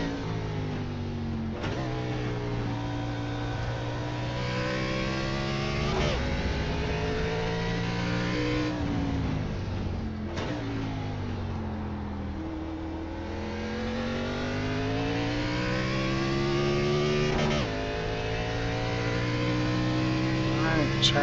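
Race cars on the circuit at COTA during a B Open race, engines revving and shifting through gears as cars pass close by, with a driver's radio talk over the continuous loud engine noise.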